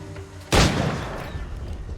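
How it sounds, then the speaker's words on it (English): A single loud gunshot cracks in Assassin's Creed IV: Black Flag after a moment of quiet game ambience, its sharp blast decaying into a long rumbling tail. "I probably should have guessed the sound of a gunshot"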